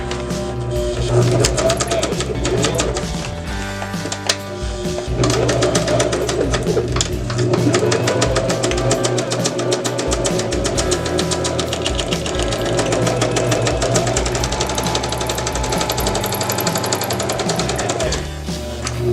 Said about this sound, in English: go ahead and stitch right along that line you made with your bag still folded the way that you had it folded